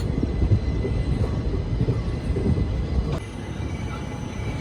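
Sabarmati Daulatpur Chowk Express, train 19411, heard from inside a 3rd AC coach while running slowly on a curve after leaving Ajmer, a steady low rumble of wheels and carriage that eases slightly partway through.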